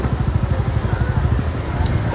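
A motorcycle pulls into the bike parking at City Park in Yogidham on a crowded Saturday. Its engine gives a steady, close, low pulsing throb throughout.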